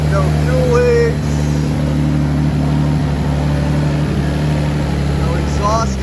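A BMW E36 engine idles steadily after a head gasket replacement, a constant low hum with a few brief chirpy sounds over it.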